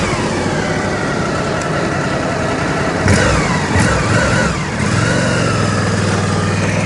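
A motorcycle engine runs on a skidbike rig during a safe-riding training demonstration. It is a steady, close mechanical drone with a brief surge in revs around the middle, heard continuously without talk.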